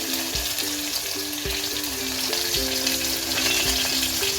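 Finely chopped garlic, curry leaves, onion and tomato fry together in a small pan for a Malvani dal, giving a continuous close sizzle with occasional stirring knocks and a steady tonal hum underneath, no voices.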